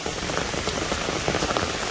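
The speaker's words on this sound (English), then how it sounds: "So it is raining." Steady rain pattering on an Appalachian Trail footpath and an open umbrella overhead, a dense, even hiss with close, scattered drop taps throughout.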